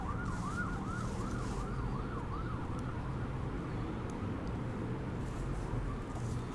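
Wailing emergency vehicle sirens sweep up and down through an urban area of Tucson, Arizona, steady and moderately distant over a constant low city rumble, with no talking.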